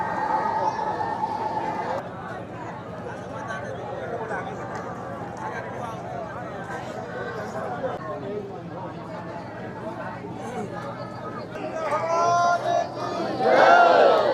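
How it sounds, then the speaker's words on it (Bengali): Crowd of pilgrims packed at a ferry ghat during Gangasagar Mela, a dense murmur of many voices with louder shouts rising near the end, a person talking over it. "মানুষের ভিড়টা দেখো জাস্ট, মানে নৌকাতে আর জায়গা নেই, এতটাই পরিমাণে ভিড়।"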